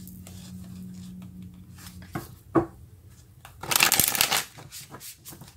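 Tarot cards are handled and shuffled, with soft taps and rustles building to a brief, dense riffle in the middle before settling back to quiet handling.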